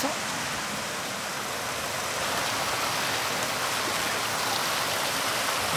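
Waterfall on the Dourbie river, a steady dense rushing roar of falling water filling the scene, close and unbroken.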